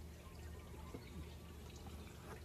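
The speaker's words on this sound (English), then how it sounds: "so you're gonna hear a little trickle of water." Soft, steady trickle of water from a small garden water feature outdoors by a porch, a faint continuous splashing flow with a few light drips, no talking.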